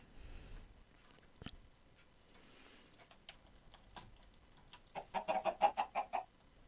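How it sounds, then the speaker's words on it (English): Chickens cluck in the Minecraft video game, with a sparse run of soft ticks and game noises building into a loud, rapid burst of about eight clucks near the end, with no talk. "Let's get a chicken. They're pretty loud."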